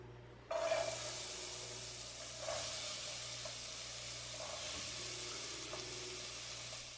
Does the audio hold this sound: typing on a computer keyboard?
no